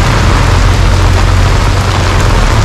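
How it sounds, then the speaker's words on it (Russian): Rain and wind growing stronger on an emptied beach at Lazarevskoye, a steady, loud, broadband hiss of rainfall and gusting air with a low rumble, continuous throughout without any talk. "Ветерок и дождик усиливается еще сильнее."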